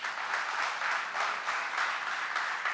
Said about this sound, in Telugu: చప్పట్లు కొడదాం ఒకసారి